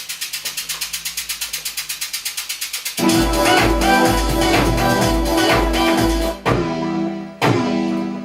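A fast, steady ticking pulse plays alone, then a loud, dense Oberheim synthesizer texture with deep bass takes over, briefly cutting out twice.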